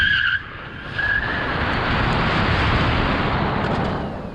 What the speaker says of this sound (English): the little motor still had enough torque to spin those old hard square tyres at 50 k's an hour